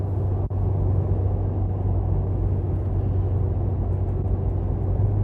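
A steady, low, throaty exhaust rumble from a 465 hp Cadillac ATS-V sedan cruising with its exhaust resonance fuse removed, droning continuously from inside the cabin with no talk.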